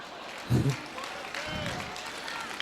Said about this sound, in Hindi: तालियां थोड़ी कमजोर है आपकी, इतने से बात नहीं बनेगी।